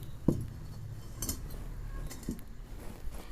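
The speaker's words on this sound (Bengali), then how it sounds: "কড়াইটাকে আমি ভালো করে পরিষ্কার করে নিয়েছি। দিয়ে আবার আমি চুলোতে বসিয়ে দিচ্ছি।" A freshly cleaned wok (kadai) is set down on a kitchen stove with one sharp metallic clunk near the start, followed by faint clinks and light handling noises.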